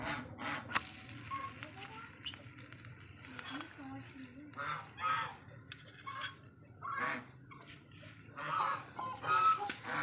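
Ducks quack and cackle nearby on a rooftop in bursts of honking calls over a low background hum, with a person speaking at times.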